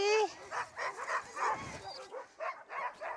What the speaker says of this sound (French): Et vous en avez combien des chiens là? 50 chiens.